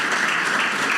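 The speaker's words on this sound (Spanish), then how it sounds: "Vamos a darle un gran aplauso a Valery Salas, que se presenta con nosotros" An audience at a panel event on education and resilience applauds a speaker, dense, steady clapping filling the whole short moment without pause.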